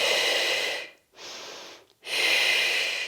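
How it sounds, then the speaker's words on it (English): Slow, deep breaths are taken during a hip stretch exercise: two long, loud exhalations or inhalations framing a softer one. The airy, close breaths are separated by brief silent pauses, and nobody speaks. "Keep breathing."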